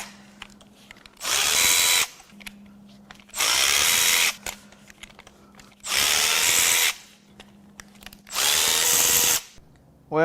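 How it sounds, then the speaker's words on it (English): Power drill or impact tool whirring in four bursts of about a second each, loud and close, used to pull spark plugs from a 2018 Toyota Camry A25A engine, with a low hum between bursts and no talk. "The next thing we're going to do is pull the spark plugs"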